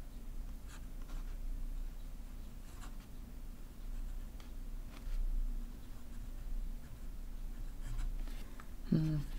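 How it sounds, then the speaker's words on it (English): A fountain pen scratching across paper while writing samples in Ferris Wheel Press Poison Envy ink, faint quick strokes in short bursts, with a low steady hum beneath. "just go ahead and write FWP"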